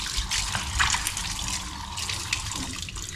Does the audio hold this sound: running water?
yes